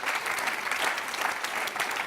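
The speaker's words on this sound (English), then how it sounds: "Let's give them a big round of applause." A panel-discussion audience applauds, a continuous dense wash of clapping hands at moderate level and without a break.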